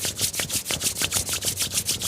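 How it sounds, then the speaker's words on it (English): Palms rub briskly together during a yoga hip stretch session, making a close, rhythmic swishing friction of about a dozen quick back-and-forth strokes in two seconds, with no voice. "rubbing the palms together, creating heat,"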